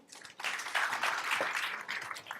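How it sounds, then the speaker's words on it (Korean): Audience at a Go Venture Forum event in October 2014 applauds to welcome a Google manager to the stage. The dense, steady clapping of a room-sized crowd starts quickly and holds at an even level throughout. "박수 부탁드릴게요."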